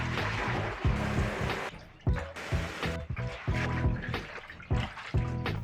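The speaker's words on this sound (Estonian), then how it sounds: "Loputan külma veega ja palju kordi." A bleached hoodie, treated with ACE bleach, is rinsed under cold running tap water: a steady rush of water with repeated splashing and sloshing bursts as the fabric is worked, close and fairly loud.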